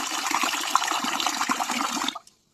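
Water gushes and splashes steadily as rice is washed in a pot or bowl in a home kitchen, a continuous close rushing sound that cuts off abruptly near the end.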